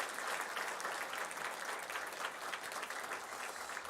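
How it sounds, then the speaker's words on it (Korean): A church congregation claps together in a steady, even round of applause, moderately distant and sustained for a few seconds without letup. "박수 한번 해 주세요."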